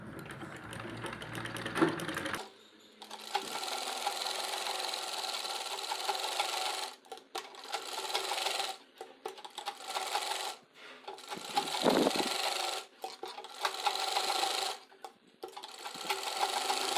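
Sewing machine stitching lining together with main frock fabric for a baby's frock, a close whirring run broken into several bursts with brief stops between them.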